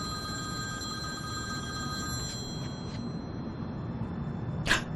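A telephone rings with an incoming business call from Rome, in a home setting from a Turkish drama dubbed in Urdu; a faint steady ring under a low background hum, with a brief louder burst near the end.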